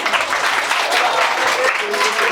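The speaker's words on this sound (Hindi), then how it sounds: "चलो एक बार जोरदार तालियां।" A crowd at an annual school function applauds, a brief, dense spell of clapping from many hands at steady volume, with voices mixed in underneath.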